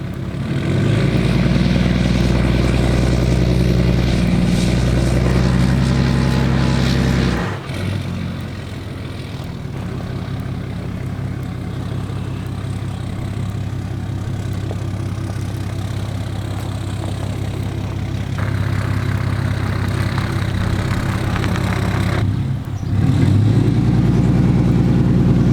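Truck engine pulling a trailer toward a mulch facility, a loud continuous low droning rumble that briefly drops around eight seconds and again near twenty-two seconds, then resumes, with no talking.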